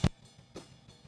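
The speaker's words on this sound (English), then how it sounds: "That front mic sounds like this by itself." A soloed front microphone on a drum kit plays back, with one sharp close hit at the start followed by softer, sparse taps that fade quickly, fairly quiet and alone.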